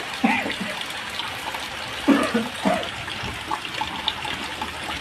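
Rainwater pours through a broken roof sheet inside a shop, a steady rushing splash running close by throughout, with a few brief louder bursts.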